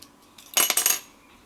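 A craft knife is picked up and handled at a crafting table: a faint tap, then a quick cluster of sharp metallic clicks and scrapes over about half a second, close and brief, then quiet.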